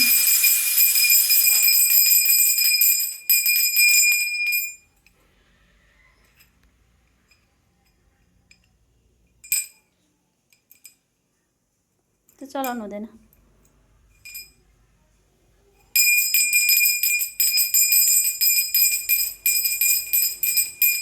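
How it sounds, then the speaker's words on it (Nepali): A small child rings a bell indoors: bright, high metallic ringing in bursts at the start and end, with a quiet stretch between where a voice cries or whines briefly. "घन्टी बजाएको?"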